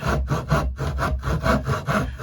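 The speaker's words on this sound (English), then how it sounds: "now we're starting to cut through" Hand saw cutting through wood with steady back-and-forth strokes, about four rasping passes a second, loud and close with no talk.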